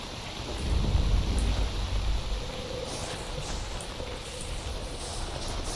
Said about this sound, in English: these lightning strike anomalies are really getting out of hand